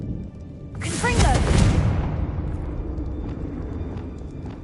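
Confringo fire spell cast in Hogwarts Legacy, a loud fiery whooshing blast that swells quickly and fades into a lingering rumble.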